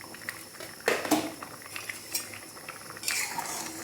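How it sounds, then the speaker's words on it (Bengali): A metal spoon stirs a spoonful of sugar into a cooking pot, giving a few quiet clinks and scrapes against the pot over a soft bubbling background. "দিয়ে দিলাম, একটু নাড়াচাড়া দিয়ে দিলাম"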